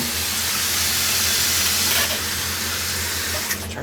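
Water runs steadily from a tap, filling a Panda portable washing machine, a loud continuous hissing rush that persists throughout.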